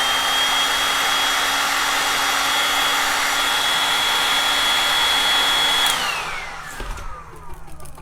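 Hair dryer blowing to dry clay paint on a furniture panel, a loud, steady whine and rushing air that runs for about six seconds, then winds down as it is switched off, leaving faint handling noises.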